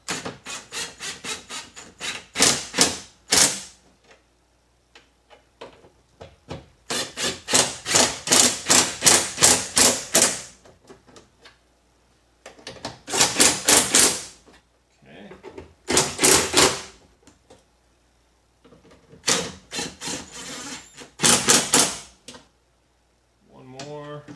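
Screws on the rear window regulator of a Pontiac Grand Am being tightened down: several runs of rapid ratcheting clicks, close and fairly loud, separated by short pauses.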